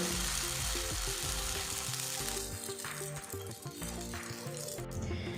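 Carrot and egg pancake batter frying in a pan, a soft continuous sizzle under sustained background music, fading slightly partway through, with no voices.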